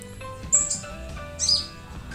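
A caged kolibri ninja songbird gives two short, sharp chirps about a second apart, close by, over a quiet low hum.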